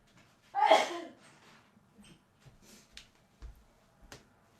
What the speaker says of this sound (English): Oh no, I'm gonna sneeze.